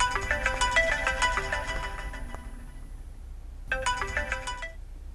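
A mobile phone ringtone plays a bright, repeating melodic phrase loud and close, breaks off for about a second, then starts again, with low background noise underneath and no talking.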